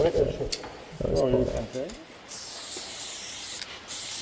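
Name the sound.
spray paint can nozzle spraying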